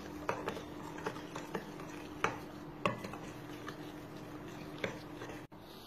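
A spoon stirs clafoutis batter with lemon zest and flour being worked in, giving soft, irregular clinks and scrapes against the bowl over a low steady background, with no talking.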